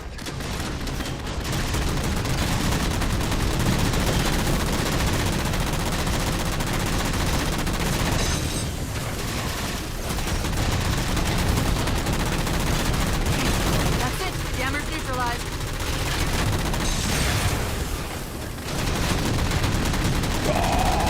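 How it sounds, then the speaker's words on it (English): Rapid bursts of gunfire from the video game Halo, with automatic weapon fire, explosions and shots sounding loud and nearly continuous, and a player's voice speaking intermittently underneath. "Stop shooting at me."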